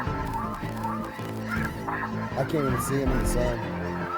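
Geese honking repeatedly during a duck and goose hunt, a busy chorus of calls from a flock that grows denser and louder, with a hunter's voice speaking briefly over it.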